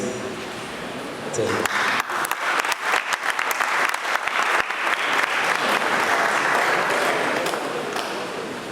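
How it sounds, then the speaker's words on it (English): An audience at a school anniversary debate event breaks into a round of applause for the headmaster. It starts after a quieter opening second and then holds as broad, sustained clapping from many hands, with some voices mixed in. "Mr. John Arthur, headmaster administration. Let's give him a round of applause"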